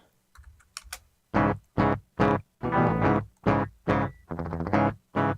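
Chugging, distorted metal rhythm electric guitar played dry in short, choppy bursts with tight gaps of silence between stabs.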